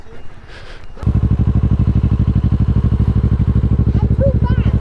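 A motorcycle engine starts with a sharp onset and settles into a loud, close, rapid idle chug with steady rhythmic pulses, a brief voice before it and another faintly near the end.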